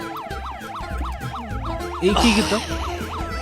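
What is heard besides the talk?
police siren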